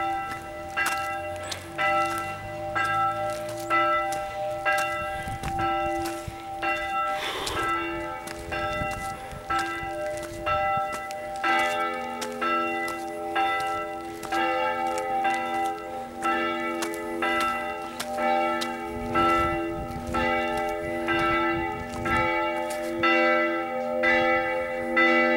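Church bells ringing in Dąbrowa Górnicza, Poland, during the Christmas season, sustained tolling with overlapping strikes and long ringing tones, steady and fairly close for the whole stretch, with no talking.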